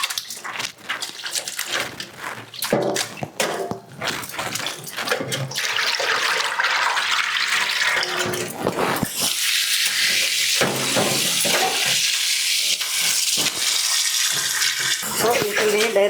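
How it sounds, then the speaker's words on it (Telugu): Water splashes and runs as food is washed by hand in a wide bowl, sloshing in bursts that become a continuous gush of running water, with a voice talking over the first part. "వెడల్పుకున్న గిన్నెలో కడుక్కోండి, చిన్న చిన్న గిన్నెలో కాకుండా."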